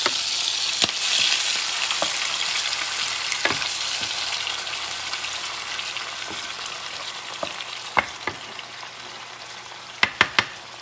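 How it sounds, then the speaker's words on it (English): Tomato sauce sizzles steadily in a pan over medium heat while sardines cook, a loud, even frying hiss that fades slightly, broken by sharp utensil taps and clicks near the end. "now you add your tomato sauce. Lower the heat to medium."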